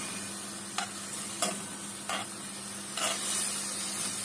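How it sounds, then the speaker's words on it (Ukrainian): Chicken breast frying in a pan, a steady close sizzle with periodic scraping strokes of stirring, no voices present. "У мене сьогодні буде ось це куряче м'ясо, обжарюю, грудка і з кабачком"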